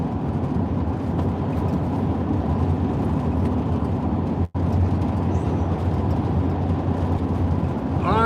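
A steady, loud road rumble fills the cabin of a car driving southwest through the desert toward Organ Pipe Cactus park, with a brief dropout partway through.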